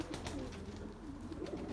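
Doves coo softly in a quiet outdoor spot where wheat is scattered for turtle doves and sparrows, a few low, muffled calls repeating under faint background hum with no talk.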